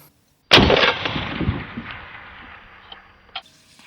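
A single sharp .223 Wylde rifle shot on a prairie dog hunt cracks loud and close, then its echo slowly fades across open ground, with a faint click afterward.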